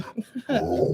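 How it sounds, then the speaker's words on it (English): A dog makes two short whimpering yelps, then a longer low growling, grumbling sound, close by and indoors, with no talking over it. "You're hearing some noises? That's the dog."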